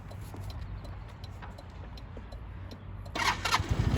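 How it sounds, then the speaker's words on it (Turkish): An RKS Newlight 125cc scooter engine cranks on the electric starter after a low background hum, catching into a quick, buzzy idle with sputtering pulses near the end. "Marşa basıyorsunuz ve çalışıyor"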